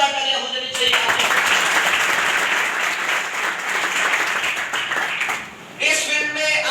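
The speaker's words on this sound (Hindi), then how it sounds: "एक बार जोरदार तालियां हो जानी चाहिए." Loud, sustained applause from a student seminar audience in a hall, many hands clapping together for several seconds before fading, with a voice speaking at the start and end.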